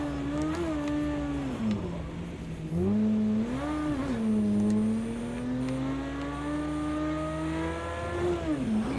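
Exotic car engine in a racing video game on dirt, a steady droning whine that rises and falls with shifts and revs, continuous and close with no talk over it.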